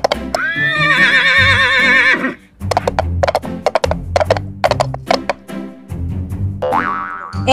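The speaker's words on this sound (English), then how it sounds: "H for horse." A horse whinnies loudly with a shrill, wavering call, followed by rhythmic hoof clip-clops and a second, shorter whinny near the end, over light background music.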